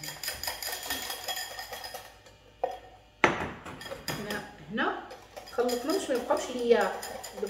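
A spoon stirring a mayonnaise and ketchup mixture in a bowl: sporadic clinks and scrapes, one sharp knock, then quicker light tapping, while someone talks throughout.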